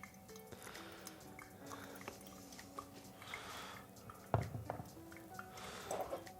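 Brewed coffee drips from a pour-over brewer during the final pour of a competition brewers cup recipe, faint soft drips and trickling close by in a quiet room, with a louder splash partway through.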